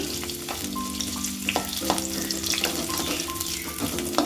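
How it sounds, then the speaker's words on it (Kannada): Onions frying in a pan for egg sambar, a steady crackling sizzle that runs throughout with occasional stirring clinks, close and alone. "ಆಗಿ ಫ್ರೈ ಮಾಡಿರಿ ಈರುಳ್ಳಿನ ಕೆಂಪು ಬಣ್ಣವರು ಬರೋವರೆಗೂ ಸ್ವಲ್ಪ ಫ್ರೈ ಮಾಡಿ"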